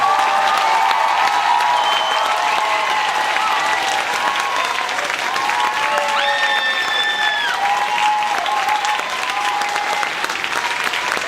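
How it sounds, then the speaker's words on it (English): An audience at a high school honor band concert claps loudly with some cheering and whistles, a full, sustained wash of applause that holds evenly throughout. "Let's give him a big round of applause."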